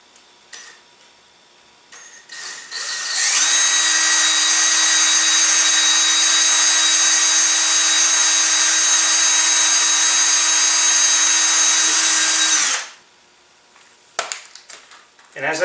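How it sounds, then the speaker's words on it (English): Power drill bores screw holes through the aligned airframe tubes of a LOC Precision Patriot 5.5-inch model rocket, one loud sustained whine of about ten seconds, with a voice speaking faintly before and after. "I'll continue to drill the holes for the next 2 screws."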